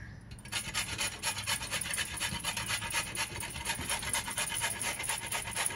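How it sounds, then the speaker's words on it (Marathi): Bottle gourd being grated by hand, a steady rasping scrape that repeats in quick even strokes, close and fairly loud, with no talking over it. "मी आता हा किसून घेते।"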